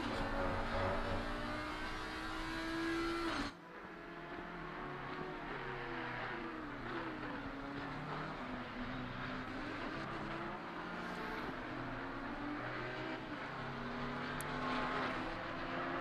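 Race car engines in a sim racing game at Misano, a Porsche chasing another car, with a steady high whine that drops abruptly as one car shifts or passes, then rising revs and continuous engine drone.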